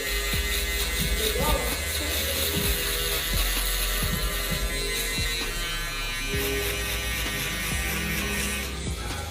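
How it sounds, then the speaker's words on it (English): An electric shaver buzzes steadily and close during a mid fade haircut at a barber's chair, a continuous whirring hum with occasional scraping as it moves, while a person talks over it. "I'm gonna hit the bottom of the shaver."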